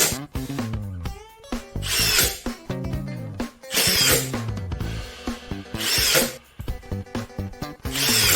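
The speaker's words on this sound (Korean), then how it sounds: "특히 목재에 나사 작업을 할 때 편하고 작업이 쉽게 되는 느낌이었습니다." A compact Milwaukee 18V impact drill drives screws into wood, its motor whirring up and down in repeated close, loud bursts with brief pauses between each run.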